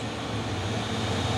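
Hino 500 6x4 truck hauling oil palm fruit, climbing a road with a steady, moderately loud engine drone and no talk.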